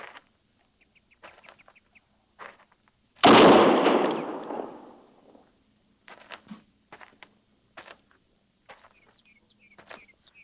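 A gun fires once in a frontier cavalry-fort drama, a single loud, sharp blast with a long fading tail, set among quiet clucking chickens and birds.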